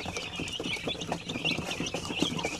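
Sampin breed chickens clucking and murmuring nearby at a farm, a busy continuous chatter of soft clucks and chirps at moderate volume, with no voices.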